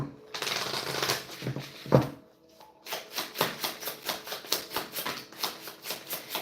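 A deck of spirit message cards being shuffled for a tarot reading, first a long continuous riffle, then a steady run of rhythmic close-up shuffling snaps.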